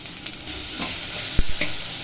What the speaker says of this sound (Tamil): கொஞ்சமாக அதை வதக்கி விட்டுக்கோங்க.